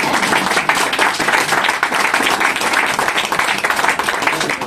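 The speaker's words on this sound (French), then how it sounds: "Acclamons les retardateurs" A church congregation applauds latecomers with sustained, dense clapping that holds steady and fills the room throughout, with no voices standing out above it.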